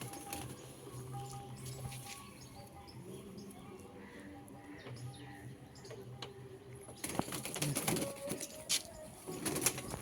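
Indian pigeons of a western chhapka line coo softly in a loft, low burbling calls under faint background noise and occasional rustling.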